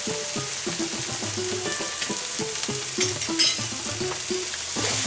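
Onions fry in oil in a pan for a curry, a continuous close sizzle with regular soft stirring scrapes and taps.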